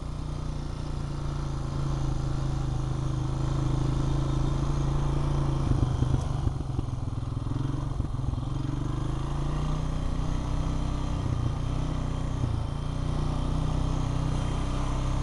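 Honda Rancher four-wheeler ATV engine running steadily while being ridden, a close, constant low rumbling drone with small bumps and clatters, no talk.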